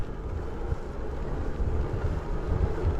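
Steady low rumbling wind buffeting on the microphone of a Velotric T1 ST e-bike ridden at top speed in top gear, continuous and loud, with almost no motor whine audible and no talking.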